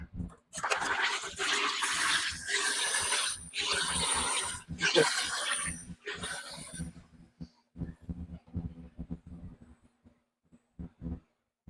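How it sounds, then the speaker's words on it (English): A countertop soda maker carbonating water into soda water gives loud, pulsing bursts of gas hiss and rattle for about six seconds, then falls to softer scattered clicks and hum. "Let me get this in here so we can make our soda water."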